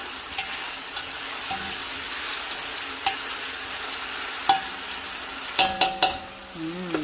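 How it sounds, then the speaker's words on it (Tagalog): Tomatoes sautéing in a pan, a soft continuous sizzle broken by several sharp scrapes and clinks of a utensil stirring against the pan, clustered near the end. "Ituin muna natin yung ating kamatis na maigi."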